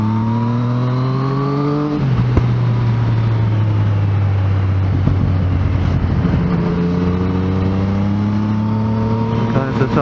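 A car on a track accelerates out of a corner, heard from inside. Its loud, close engine drops in pitch as it turns, then climbs smoothly and steadily as the throttle is gently applied.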